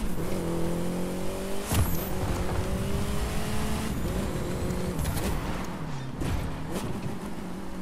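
A Saleen S1 sports car in The Crew 2 racing game revs its engine hard, the pitch climbing and dropping through gear changes, with tire squeal cutting in, loud and close throughout.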